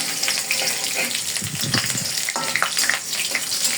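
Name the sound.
chopped garlic and onion frying for jute leaf stir-fry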